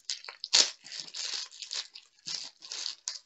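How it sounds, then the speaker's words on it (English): Cellophane wrapping on a boxed diamond painting kit crinkles and tears in repeated bursts while being unwrapped, loud and close, with no talking. "Oh, this cellophane is very noisy."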